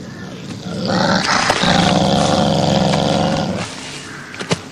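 A police training dog growls and snarls steadily at close range while tearing at a sample of cloth, a rough sustained rumble with brief louder bursts near the end.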